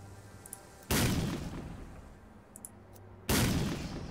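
Two loud, booming grenade explosions from the video game S.T.A.L.K.E.R.: Call of Pripyat, each a sudden broadband blast that decays over about two seconds, separated by a short quiet gap.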